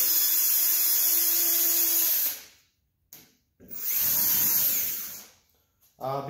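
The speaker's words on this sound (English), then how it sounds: "You do wanna drill holes" A power drill whirs loudly twice while drilling holes in plywood, each burst running a couple of seconds and winding down, with a short spin-up at the end.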